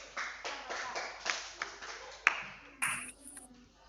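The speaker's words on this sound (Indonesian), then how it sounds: "tepuk tangan buat kedua teman kalian dulu" Students in a classroom clap for two classmates, a scattered round of hand claps with a few sharper single slaps, fairly soft and brief, with a faint voice underneath.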